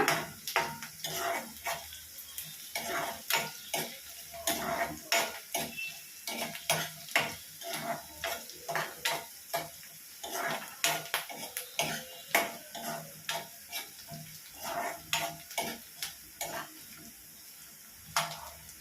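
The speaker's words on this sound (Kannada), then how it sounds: "ಇಲ್ಲಿ ಆನಿಯನ್ ಸ್ವಲ್ಪ ಬ್ರೌನ್ ಕಲರ್ಗೆ ಟರ್ನ್ ಆಗಲಿ ಸೊ ಅಲ್ಲಿವರೆಗೂ ನಾವಿದನ್ನು ಕ್ಲೀನಾಗಿ ಫ್ರೈ ಮಾಡ್ಕೊಳ್ಳೋಣ" Onions fry in a pan for chicken sukka, a constant low sizzle under rapid, rhythmic spatula scrapes and clinks against the metal, close and continuous throughout.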